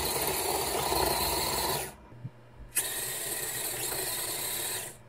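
Small motors on a SunFounder Fusion HAT+ whir loudly and steadily, cut out for under a second, then spin up again in the other direction and keep running before stopping.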